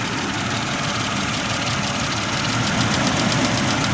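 A Mercedes-Benz W210 with an M112 engine idles up close, a steady mechanical drone carrying a faint, regular ticking knock.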